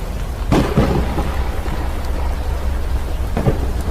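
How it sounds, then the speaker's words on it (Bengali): Heavy rain pours steadily while loud thunder rumbles and cracks twice, a dense, close storm sound heard alone. "উন্মাদ বজ্রপাত আর ঝড়ঝাপটায় ঢাকা পড়ে যায় ফেডারেল হিল। অন্তহীন একটানা ভারী বর্ষণ আর গুমগুম মেঘের শব্দ।"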